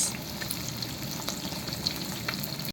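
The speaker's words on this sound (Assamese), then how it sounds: "বৰ্তমান মই লোকেল মাছ ভাজি আছোঁ কেৰাহীত" Local fish frying in oil in a kadai, a dense, continuous close-up sizzle with no talking.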